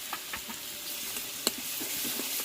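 Spices and a ginger, garlic and cumin paste sizzle and crackle in hot oil as they are sautéed for a potato, egg and soybean kofta curry. The frying hiss is steady and close, broken by occasional stirring scrapes, and no one speaks.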